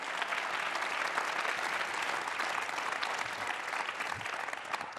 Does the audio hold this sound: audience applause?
yes